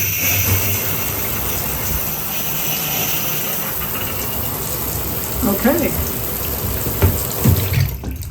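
Water pours from a newly replaced tub spout and shower in a bathroom as a steady, loud hissing rush, with a person speaking briefly near the end.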